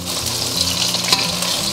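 Tofu frying in a pan, a loud, dense sizzle and crackle of hot oil with a low hum underneath and a brief clatter as the pan shifts.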